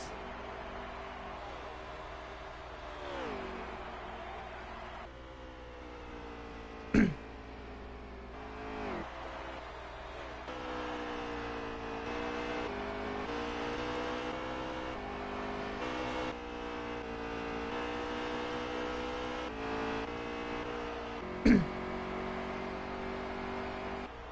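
Race cars at Darlington drone steadily at a distance, engines whirring and shifting pitch as they circle, with two sharp sudden clicks or pops cutting through the faint, continuous noise.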